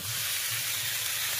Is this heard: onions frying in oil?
yes